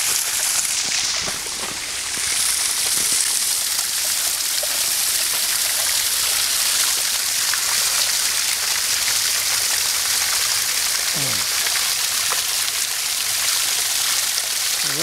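A creek running near a sewer outfall and manhole gives a steady, full-band rush of flowing water, continuous and fairly loud throughout, with no talking.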